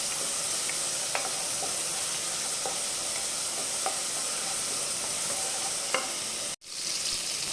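Tomatoes with ground turmeric sauté in a pan for chicken gravy, giving a steady, close sizzle and hiss with a few faint stirring clicks, cutting out sharply near the end.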